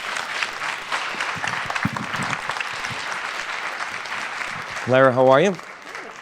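Audience applause greets a documentary director and producer as she comes out for a film festival Q&A, a broad steady clatter of clapping throughout while someone speaks over it and a brief voiced greeting rises near the end.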